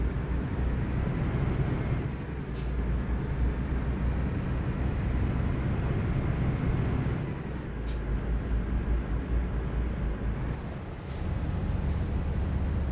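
A heavy truck in Euro Truck Simulator 2, hauling a special transport load, labours uphill with a loud, continuous engine drone and a few short hissing bursts from the brakes.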